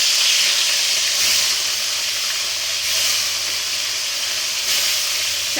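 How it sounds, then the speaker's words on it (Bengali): Turmeric-coated fish frying in hot oil makes a loud, steady, close hiss and sizzle that holds through the whole stretch, with no voices. "এবার আমি মাছগুলো সব ভেজে ফেলছি।"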